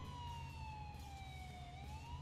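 An ambulance siren in GTA 4 wails steadily throughout, a continuous falling-and-rising tone close by over a low engine rumble, with no talking.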